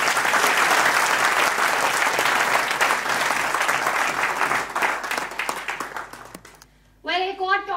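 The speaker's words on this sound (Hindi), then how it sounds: "एक बार आप सबके लिए जोरदार तालियां।" An indoor audience at a trainers' meeting in Chandigarh gives loud, sustained applause that gradually thins out before a voice starts speaking.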